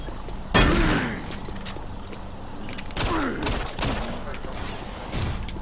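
Gunfire in the video game Doom 3: heavy booming shots with falling echoing tails, a few spaced blasts over a low droning ambient background, close and forceful.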